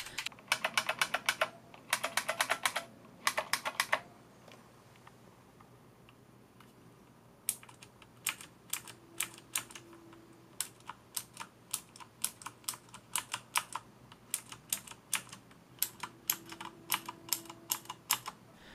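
Typing on an IBM Model M buckling spring keyboard produces sharp, loud clacks, first in dense fast bursts, then sparser individual keystrokes with occasional pauses and faint background hum.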